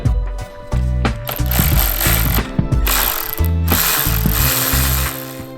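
A ratchet undoing 10 mm screws on a Ninja ZX-10R motorcycle gives loud, close, rapid pawl clicking in sustained runs with brief pauses between the strokes.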